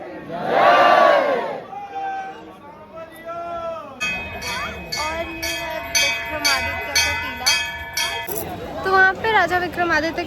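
Crowd gathered at a Ujjain temple for the evening aarti, loud voices rising in a chanting roar, then bells ringing and cries ringing out with a busy hubbub throughout.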